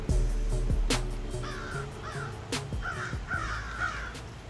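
Several crows cawing outdoors, with harsh calls repeating irregularly over a few seconds, some loud and close and others farther off, over a low background rumble.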